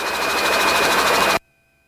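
A Robinson helicopter engine runs loud and steady, idling through its cool-down before shutdown, then cuts off abruptly, leaving only a faint electrical hum.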